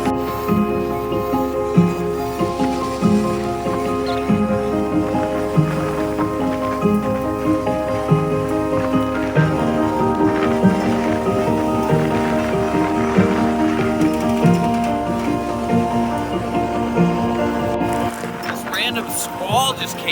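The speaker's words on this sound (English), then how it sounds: "Squall just came through and smoked me" A rain squall sweeps over a sailboat at sea while it crosses the Gulf Stream, a dense steady hiss of rain and wind with rhythmic rattles. A voice talks over it before the sound drops off near the end.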